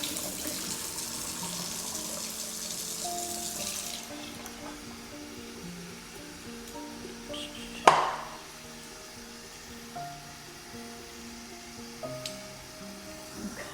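Water from a running tap splashes into a container of sprouting seeds during rinsing, a steady close rush with a sudden sharper splash partway through, then the flow continuing more quietly.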